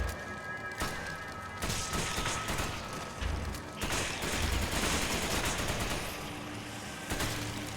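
Bursts of rapid gunfire from Sheva shooting in Resident Evil 5, loud, repeated volleys of sharp shots in quick succession with brief gaps between them.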